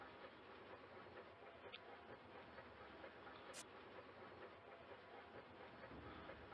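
A train rumbles steadily along the tracks in the Bounty Train video game, a continuous low mechanical roll with a brief high whistle-like tone partway through.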